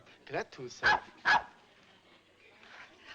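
A dog named Lassie gives a few short, sharp barks close by, mixed with a man's brief speech in a quiet indoor setting.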